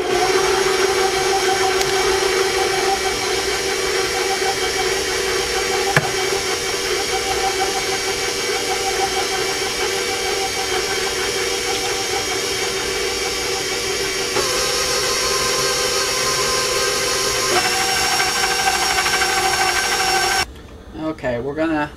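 An electric mixer beats chocolate chip cookie dough with a loud, steady motor whir that holds for about twenty seconds before cutting out briefly near the end.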